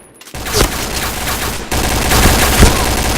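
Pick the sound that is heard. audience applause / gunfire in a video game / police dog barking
gunfire in a video game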